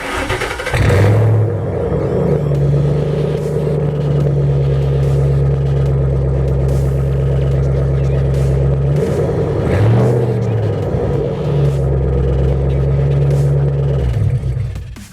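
A 2010 Ford Mustang GT with a straight-through exhaust revs loudly up close, its deep rumble held at steady high revs, briefly dropping near the middle, then climbing and holding again before the engine settles.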